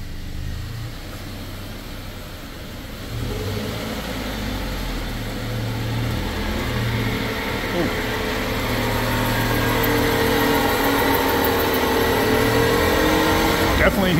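A 2017 Subaru with a suspected worn part drives at around 40 mph, its engine and road drone rising steadily in pitch and loudness as it speeds up, with people talking over it.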